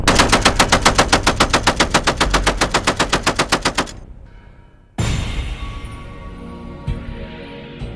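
Machine gun firing a long sustained burst of rapid, evenly spaced shots, loud and close, stopping abruptly near the four-second mark, followed by a brief lull and then a lingering noisy rumble.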